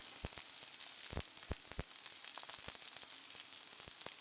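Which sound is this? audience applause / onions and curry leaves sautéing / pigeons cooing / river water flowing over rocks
onions and curry leaves sautéing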